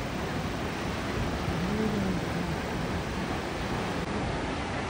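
Thoseghar waterfall in Satara pours into a large, deep pool below, a loud unbroken roar of crashing water that drowns out everything else.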